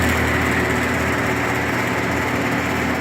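A box fan runs continuously with a loud, steady, buzzing whir and an odd rattling hum, close and unchanging.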